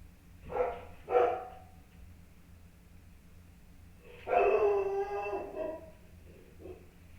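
A dog barks at someone in front of the house, two sharp barks followed by a longer, louder bark run with a trailing yip, moderately close over a low steady hum.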